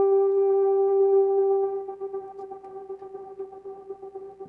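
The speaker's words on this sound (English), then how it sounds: "we can hear that reverb still with the gate going" A sustained tone fades into a pulsing, chopped tail as the reverb is rhythmically gated on and off.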